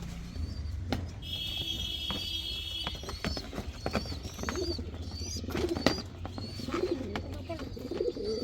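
Pigeons cooing in a backyard coop, soft repeated low calls close by amid scattered clatter, chirps and household noise.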